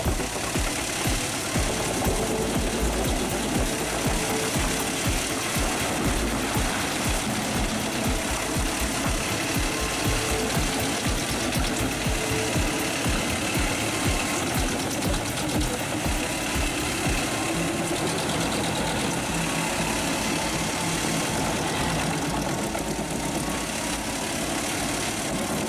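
A 796-horsepower Volvo engine on a tree-cutting machine, built without a crane or hydraulic fan, runs loud and steady with a dense, rumbling drone that holds for the whole stretch, with no talk over it.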